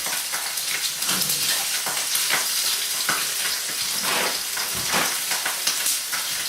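A steak sears in a pan over high heat, giving off a loud, constant sizzle and crackle with hissing spatters that continue without pause.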